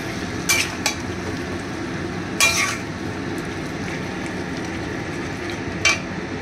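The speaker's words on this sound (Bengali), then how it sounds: "নুন আন্দাজ মতন, দিয়ে ভালো করে নেড়ে নেবো।" Chicken gizzards and wings with salt are stirred in a pan, giving a steady low sizzle broken by a few sharp clinks of the spoon against the pan.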